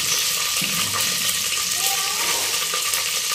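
Onions frying in hot ghee in a home kitchen, a steady loud sizzle with faint clinks and a brief watery splash, continuous throughout.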